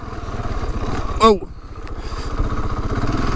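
A KTM 701 Enduro motorcycle rides off-road, its engine a steady low pulsing drone with bumps and surges as it bounces over rough ground, while a rider briefly exclaims over it.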